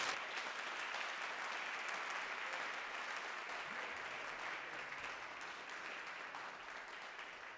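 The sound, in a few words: audience applause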